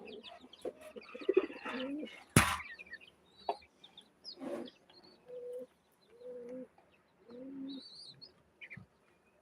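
Domestic pigeons, a female and a male, coo close by in a series of soft low phrases, broken by a sharp clatter and some rustling, with no talk.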